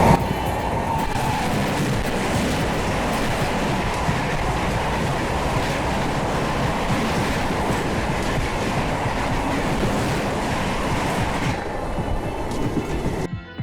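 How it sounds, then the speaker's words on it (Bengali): A train in rural Andhra Pradesh rumbles past close by with a loud, continuous roar and wheel clatter that holds steady for over ten seconds before cutting off. "একটা ট্রেন আসছে দেখতে পাচ্ছেন"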